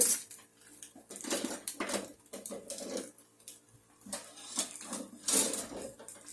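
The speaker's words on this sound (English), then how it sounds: "I'm going to use my big spoon to dig" A big spoon digging and clanking in a cooking pot, a series of close, irregular metallic scrapes and knocks with quiet gaps between them.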